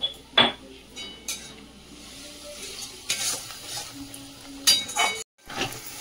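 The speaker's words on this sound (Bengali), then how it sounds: "নুন হলুদটা দিয়ে মশলাটা ভালো করে কষিয়ে নিই" Spice paste with salt and turmeric is stirred in a pan, a utensil scraping and clinking against the metal in several distinct strokes over a soft background sizzle.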